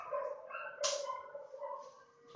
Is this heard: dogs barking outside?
yes